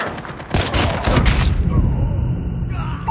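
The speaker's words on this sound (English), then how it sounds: "Be advised, hostile sentry gun spotted." A sentry gun fires a rapid, loud burst of automatic shots in Call of Duty Mobile, the rattling volley lasting about a second before fading into game effects.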